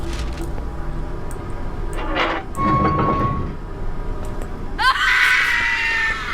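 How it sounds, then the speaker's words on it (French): In a haunted bunker video game, someone screams amid a rumbling, clattering background, the cry swelling into a loud, shrill wail near the end. "J'entends quelqu'un crier."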